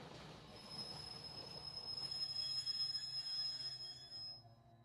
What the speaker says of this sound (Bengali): কুয়াশার বুক চিরে ধীরে ধীরে একটা কালো ট্রেন প্ল্যাটফর্মে এসে দাঁড়ালো